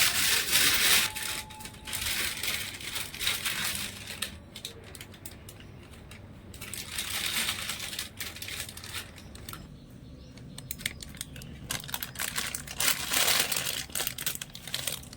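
Crinkly plastic rustling and squeezing as a plastic piping bag is filled with semolina dough for tulumba sweets, in uneven bursts of crumpling close by, with no talking.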